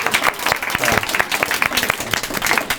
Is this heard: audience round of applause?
yes